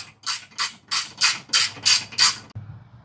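A tool tightens screws on tie-down rails for a 2024 or later Toyota Tacoma pickup, seven evenly spaced whirring bursts in a steady rhythm followed by a dull thump.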